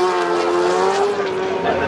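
A Ducati superbike screams past at Laguna Seca during a race, its high engine note holding steady and loud while a commentator talks over it.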